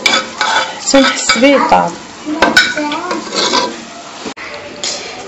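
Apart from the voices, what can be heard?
stirring berkoukes in a cooking pot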